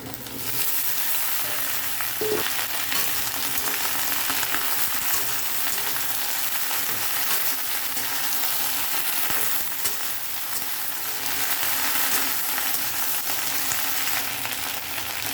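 Cut okra fries in a pan with lightly fried onion and green chili, a dense, loud, continuous sizzle close by with faint stirring and no voices.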